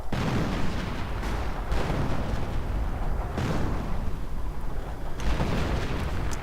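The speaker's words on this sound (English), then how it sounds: "And artillery being called in on the church." Video game artillery shelling a church makes a dense, loud, rumbling barrage. Heavier booms land roughly every couple of seconds over continuous crackling impacts.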